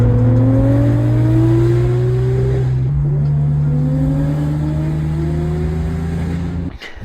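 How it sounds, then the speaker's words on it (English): A Nissan GT-R R35 engine revs hard while racing, loud and close, its pitch climbing steadily through one gear, dropping at a shift near the middle and climbing again, with no talking. "That explains the noise I heard when I was racing the R35 the other night."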